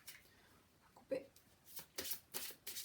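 A deck of tarot-style cards is cut and riffled by hand, giving several short papery bursts of shuffling close up, with faint speech nearby.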